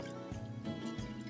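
Leftover yakhni broth from beef paya is poured into the cooking pot, a soft liquid splashing and trickling with a couple of gentle surges, close by and fairly quiet.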